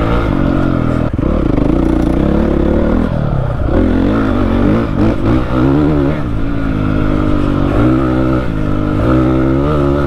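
A Honda CRF 450 four-stroke dirt bike engine is ridden hard, revving and pulling loudly and continuously with rising and falling pitch, rattling and clattering throughout, with no talk over it.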